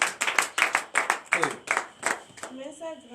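A church congregation at morning prayer claps in acclamation, a rhythmic series of sharp, loud hand claps in steady beats that fade out as a voice begins speaking at the end.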